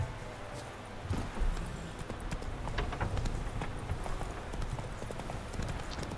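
Roach, the horse in The Witcher 3 video game, moves along at a steady clip, her hooves beating out a continuous, fairly close clip-clop rhythm with faint ambient sound behind it.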